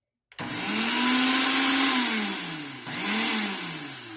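A Black & Decker quiet blender blending a smoothie starts abruptly and whirs steadily close by, its motor pitch rising then sagging, dipping briefly near the end before surging again.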